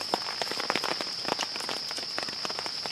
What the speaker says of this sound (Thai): ถ้าฝนตกแบบนี้